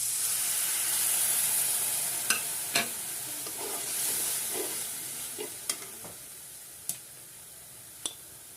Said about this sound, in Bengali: কিছুক্ষণ ভেজে নিব, যাতে পেঁয়াজ আর জিরার পেস্টের কাঁচা গন্ধটা চলে যায়।